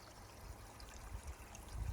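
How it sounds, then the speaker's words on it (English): Small river flowing near a shaded lunch spot on a mountain trail, a soft, steady low rush of water with faint trickling, continuous and fairly quiet throughout. "Nice little river here"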